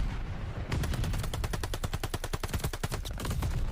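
Rapid automatic gunfire in a Call of Duty esports match between Seattle Surge and LA Guerrillas, a loud, steady rattling burst of evenly spaced shots that runs nearly continuously after a brief lead-in.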